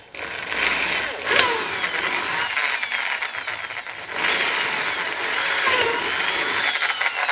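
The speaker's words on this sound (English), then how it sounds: "I can hold the drill nice and square and straight" A power drill bores through plastic during an LS1 turbo truck build, giving a continuous close, loud whirring grind with a short dip near the middle before it picks up again; no talking.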